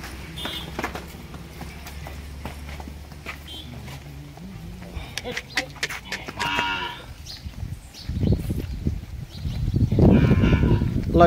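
A large cow on a village farm moos loudly several times, with one long low call near the end, while people talk nearby and there are occasional hoof and handling noises.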